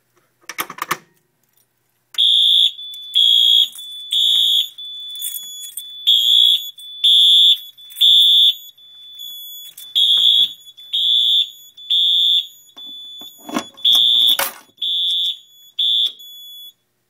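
A building fire alarm system under test sounds a loud, close, high electronic tone in steady pulsed bursts, roughly one per second after a brief clatter at the start, with a few faint knocks in the gaps.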